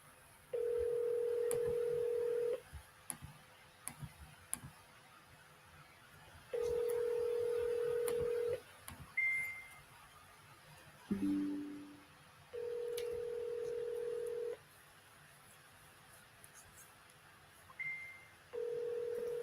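Telephone tones while placing a call: long, steady ringing tones about two seconds each, repeating with pauses, broken by brief higher beeps and clicks, close and clear with no talk.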